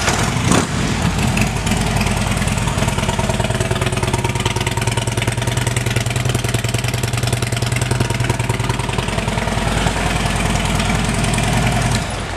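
A 2009 Harley-Davidson Street Glide FLHX V-twin with aftermarket Rinehart exhausts idles steadily up close, a deep, lumpy low rumble with uneven loping pulses that runs loud and unbroken for the whole stretch.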